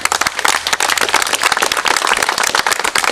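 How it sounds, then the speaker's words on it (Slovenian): Dense, steady applause from an audience at the ceremonial opening of a new four-lane bocce court in 2006, continuous bright clapping filling the whole stretch with no talk over it. "in en aplavz"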